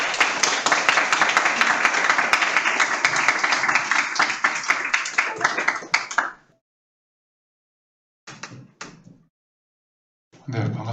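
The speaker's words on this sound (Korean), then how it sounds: "여러분 큰 박수로 모시겠습니다" Audience applause greets a university professor arriving to give a leadership lecture, a loud dense burst of clapping lasting about six seconds before cutting off, followed by brief scattered sounds.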